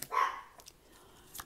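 A small chihuahua gives a quick yappy bark, then a couple of fainter yips follow after a short pause, in a quiet room.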